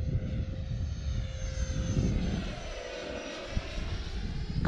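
An E-flite F-16 Thunderbird RC jet whooshes past on its landing approach with a loud, shifting ducted-fan whine that rises and falls as it passes overhead outdoors.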